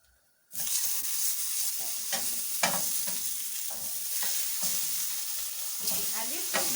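Tomato frying in a pan for a sausage salad: a dense continuous sizzle starts abruptly after near-silence, with repeated stirring scrapes on the pan at a loose rhythm, close and steady.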